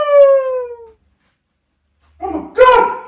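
A woman sings a long, sliding wailing note in a howling-dog style, voice imitating a dog's howl; it fades out, then after a short silence a burst of loud, excited voices and reactions follows.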